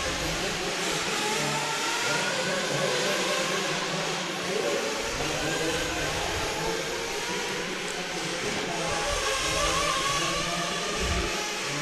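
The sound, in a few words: RC race cars accelerating around the track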